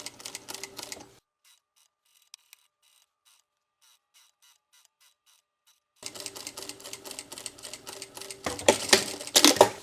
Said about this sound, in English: stitch the entire length of this front panel with a 1/4 inch seam allowance